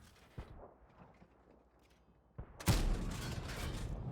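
A VK 28.01 tank armed with a 105 mm derp gun fires in a tank video game: a sudden loud, booming shot near the end that keeps rumbling, preceded by fainter distant battle noise.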